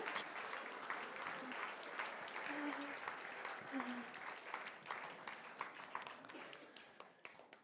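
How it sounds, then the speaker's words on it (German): Congregation applauding during a church service, sustained clapping from many people that thins out toward the end, with scattered voices beneath it. "Gebt ihnen einen grossen Applaus für den Mut."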